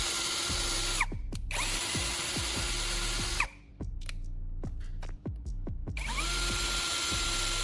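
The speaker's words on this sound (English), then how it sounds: "I'm going to drill several holes into a wooden board" Cordless drill boring a series of holes into a wooden board, its steady motor whine broken by brief pauses and pitch dips as the bit bites and releases, loud and close with no talk.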